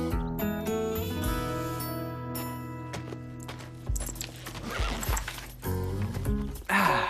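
Horses being saddled in a stable neigh and whinny in several bursts, with hooves clopping and light clinks of tack between them, fairly close, with some faint voices in the background.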